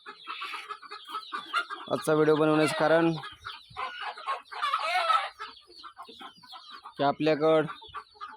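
Free-range country chickens, about fifty birds, cluck and call inside a poultry shed in loud repeated bursts. Someone talks over them.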